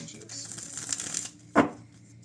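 Tarot cards are shuffled by hand at close range, a soft continuous riffling flutter lasting about a second and a half, ending in a sharp tap as the deck is squared; a voice speaks briefly alongside.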